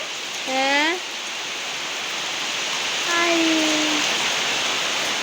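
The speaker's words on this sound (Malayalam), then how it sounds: "നല്ല മഴ അതാ" Steady rain hisses throughout, with two short bird calls rising out of the downpour.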